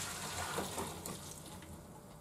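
Tap water streams over freshly boiled noodles in a kitchen sink to cool them for hiyashi chuka, a steady, close, broadband rush without pauses or voices.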